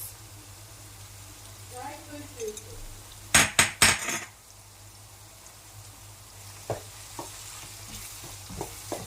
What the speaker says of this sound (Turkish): biraz da böyle kavuralım ki salçamız da içinde yavaş yavaş dağılsın ve soğanlarla birlikte iyice salçamız da kıvamını bulsun